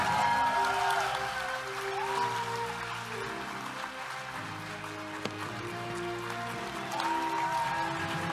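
Audience clapping at an award ceremony where plaques are presented, a sustained round of applause from a crowd in a hall with music playing underneath.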